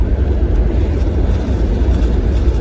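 Wind rushes in through the open windows of a 1987 Cadillac Brougham on the move, a loud, constant low roar that buffets evenly with the road and engine rumble beneath it.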